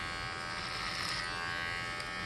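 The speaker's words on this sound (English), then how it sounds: "I like doing this clipper over comb." Electric hair clipper running clipper-over-comb during a drop fade haircut, a steady, fairly quiet buzzing hum with faint cutting texture and no talk.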